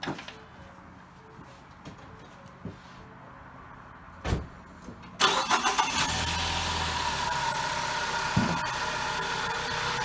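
A car engine is cranked and fires up about halfway through, jumping from a quiet background with a few clicks to a loud, steady idle that continues to the end.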